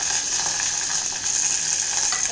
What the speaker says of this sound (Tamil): இப்போ அதே பேனில் இன்னும் கொஞ்சம் எண்ணெய் சேர்த்துக்கோங்க. இதில் 2 இல்லை 3 பச்சை மிளகாய் உங்களோட கார அளவுக்கு ஏற்றபடி சேர்த்துக்கோங்க.